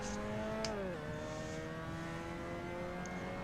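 A Mazda MX-5 Cup race car engine in Assetto Corsa at the Nordschleife holds a steady high drone, dropping in pitch briefly as it shifts, then droning on evenly at close range.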